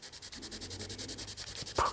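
Steady rhythmic scratching of a 6B charcoal pencil shading across paper, close up, with brisk regular back-and-forth strokes and a brief louder scrape at the end.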